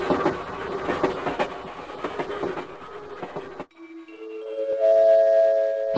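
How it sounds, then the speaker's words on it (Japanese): A train pulls into a station with a loud rumbling, clattering rush of wheels and cars that cuts off abruptly and gives way to sustained electronic chime tones. "お、電車が来たな。"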